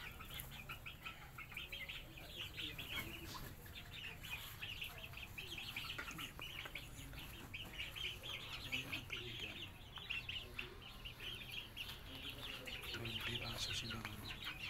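About eight backyard chickens cluck softly and intermittently, with occasional sharper calls and rustling, heard fairly quietly against a low background hum.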